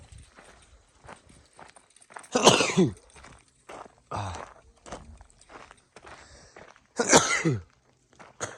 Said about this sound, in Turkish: Allah nasıl hapşırdık öyle.